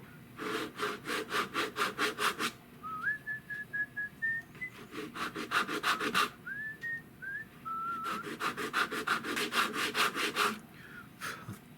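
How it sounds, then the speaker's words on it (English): Sandpaper is rubbed rhythmically on a concave wooden surface of an old Essex double gun during restoration, with fast repeated strokes in bursts, while someone whistles a tune over the scraping. "It's just hard to get sandpaper in there."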